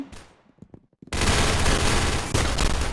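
Rapid bursts of automatic gunfire from the Roblox shooter game Arsenal, loud and sustained after a few sparse, quieter shots at the start.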